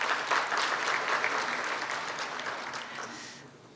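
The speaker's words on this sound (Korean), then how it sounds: "다시 한번 큰 박수" Audience applause at an energy and ICT forum, steady clapping from a crowd that fades gradually over a few seconds.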